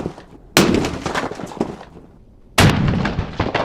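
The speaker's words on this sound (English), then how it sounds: "Don't worry, Talking Tom, it's just a Chinese bunny that blew up next to you" A firework charge blows up a chocolate Easter bunny: two sharp, loud bangs about two seconds apart, each followed by a crackling, rumbling tail.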